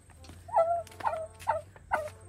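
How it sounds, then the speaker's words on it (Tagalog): Grandfather's turkey gobbling four times in a row, rapid warbling calls spaced about half a second apart, fairly close over a low steady background hum. "Yung pabo ni Lolo."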